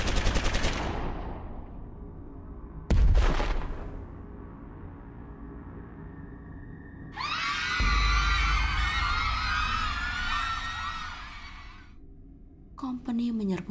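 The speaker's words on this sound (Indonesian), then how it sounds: "Dari kejauhan terdengar teriakan ketakutan, bersaut-sautan dengan suara letupan senapan dan pistol yang menyala" In a horror podcast scene of a colonial raid on a village, sharp rifle and pistol shots crack out, a couple of loud booming reports followed by a long stretch of shrill, frightened screaming and a last burst of noise.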